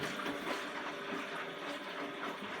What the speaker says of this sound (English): So now we're running cold water through whatever valve is coming through.